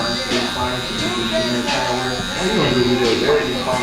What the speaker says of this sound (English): make sure that clipper gets that full stroke